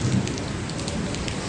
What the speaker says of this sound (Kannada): ಯಾಕೋ ಮಳೆ ಗಾಳಿ ಜೋರು ಅದ ರೀ